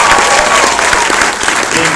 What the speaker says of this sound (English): Big round of applause.